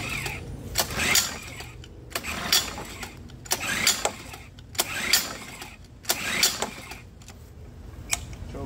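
Repeated pull-start attempts on a Mercury 7.5 outboard engine with the choke on and the gear in neutral: a series of sharp, evenly spaced cord yanks, each one turning the motor over in a brief mechanical rush, loud and close with no talking.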